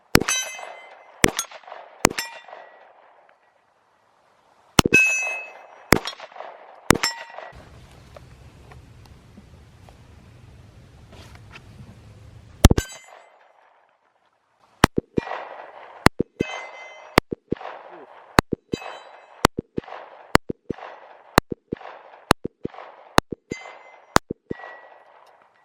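Sig P365XL pistol fired at a shooting range: sharp, loud single shots in quick strings, a group of three, then four, a lone shot after a pause, then a steady run of about ten evenly spaced shots with brief ringing tails.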